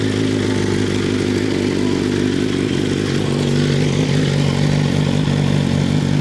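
A BMW S1000RR sport bike with a Vandemon exhaust idles in a steady, loud, lumpy rumble with an uneven race-bike beat, heard close up and continuous with no voices.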